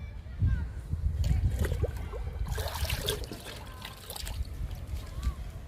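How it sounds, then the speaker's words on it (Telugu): Liquid fertilizer made from fruit peels splashes and trickles onto pomegranate plants, a soft, close, irregular pouring under quiet outdoor ambience. "చల్లుతున్నాను దానిమ్మ మొక్కలకి."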